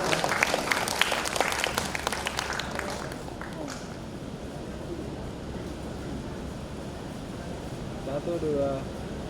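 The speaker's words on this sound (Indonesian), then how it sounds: "Sekali lagi kita berikan tepuk tangan untuk mereka." A church congregation claps at a senior community worship service, a burst of many hands in the first few seconds that quickly fades into a murmuring room with faint voices and low background hum.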